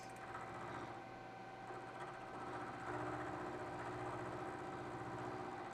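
A milling machine cuts with an end mill at lowered RPM while outfeed roller parts are being modified for a weld box project. A steady mechanical drone with a thin high whine continues evenly throughout the clip and swells slightly midway.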